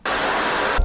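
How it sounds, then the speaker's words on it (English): Steady broadband hiss from a turbo car's engine just after starting, a ricer-style 90s car, loud and continuous for under a second before cutting off. "Why is there a white noise when you start the engine?"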